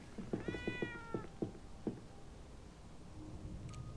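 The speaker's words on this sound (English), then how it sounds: "That was good to pet a cat." Cat being petted in Darkest Files: a close, clear run of short meows, several in quick succession, then a few softer trailing ones, alone with no talk.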